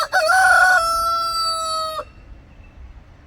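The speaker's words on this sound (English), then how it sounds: "those are our roosters" A single rooster crows loudly and close by in a backyard, one long cock-a-doodle-doo with a clucking start, then the call cuts off and quiet follows.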